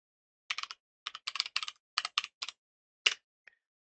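Keystrokes on a computer keyboard while typing SystemVerilog code for a constraint, heard as close, crisp clusters of clicks in short bursts with brief pauses, ending in one louder key press and a faint tap, with no talking.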